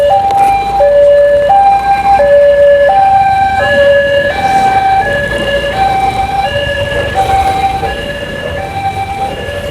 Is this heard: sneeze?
no